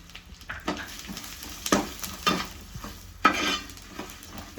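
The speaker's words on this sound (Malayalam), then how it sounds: "കുറച്ച് എണ്ണ ഒഴിച്ചിട്ടുണ്ട് അപ്പം അതിലേക്ക് നമുക്ക് ആദ്യം മുളക് ഇട്ട് കൊടുക്കുക" Red chilies frying in a little oil in a pan for coconut chutney, with stirring scrapes and sizzling bursts close up, several louder clatters of the spoon against the pan.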